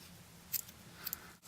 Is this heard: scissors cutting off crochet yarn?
yes